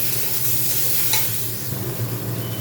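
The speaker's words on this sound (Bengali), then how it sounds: "এটা হচ্ছে আদা বাটা জিরে বাটা এইটা দিয়ে আবার একটু কষিয়ে নেব" Ginger and cumin paste sautés in a pan with a steady broadband sizzle and soft stirring scrapes, one brief clink near the middle, no talking.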